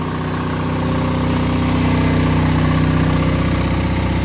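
An Onan 12.0 DJB-MS diesel generator running with no load, a loud, steady close-up drone with an even low throb that holds unchanged throughout.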